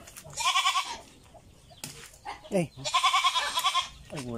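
Two loud, wavering goat bleats, each about a second long, with a short pause between them, plus a couple of quieter calls and faint background voices, as a newly bought goat is tied up in Baao, Camarines Sur, Philippines.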